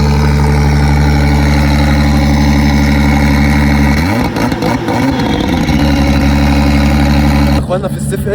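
A drift car's engine runs steadily at idle on a track area, then rumbles and revs up briefly in the middle before settling back. The sound stays loud and close throughout, with no talk over it.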